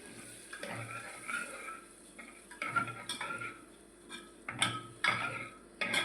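A spoon stirs ivy gourd (tindora) and green vegetables with a little water over a low flame, scraping against a metal pot in irregular bursts, with soft clinks and a faint sizzle underneath.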